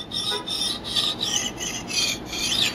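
An axe blade is drawn over sharpening stones, working through the grits to a fine 600-grit stone: close, rhythmic rasping strokes in a steady back-and-forth, each scrape bright and gritty, with no voices.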